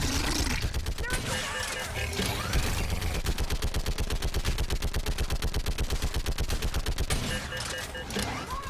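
Sustained automatic gunfire in a chaotic sci-fi firefight from Mass Effect 3, rapid rhythmic bursts running loud and close for several seconds with shouted voices over and between the volleys.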